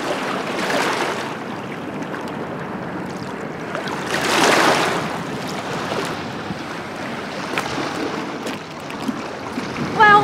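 Water of the Yangtze River rushing past with a boat moving on it, a continuous broad wash of flowing water and wind, swelling in louder surges at moments, with no voices.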